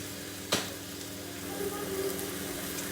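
Beef and ricotta meatballs browning in a hot pan give off a steady, close sizzle, with one sharp knock of utensil against the pan early on.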